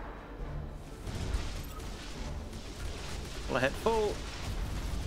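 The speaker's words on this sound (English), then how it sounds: "Tell them to detonate the mines. That explosion should clean our tails of these traitors." Mines detonating in the space strategy game Battlefleet Gothic: Armada 2, a rumbling, booming blast bed rolling under a voice issuing commands, with spoken radio-style chatter over the explosions.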